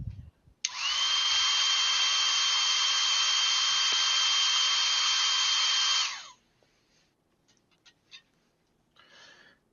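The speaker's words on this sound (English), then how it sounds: "I'll just hit with my blow dryer real quick off camera" A blow dryer aimed at drying paint roars in one loud, steady whoosh lasting about five and a half seconds, then cuts off, leaving faint small clicks and rustles.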